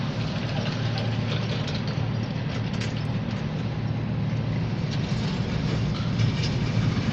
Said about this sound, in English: Yeah, it looks like there is another train.